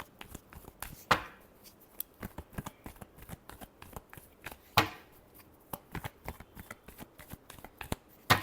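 A deck of tarot cards is shuffled by hand in quick riffles and taps, with sharp, close, rhythmic snaps and a few louder bursts standing out over a quiet background.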